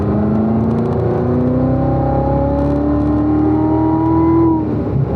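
A race car powers out of a corner on track, its engine note climbing steadily in a loud, smooth rise of acceleration heard from inside, with no talk over it.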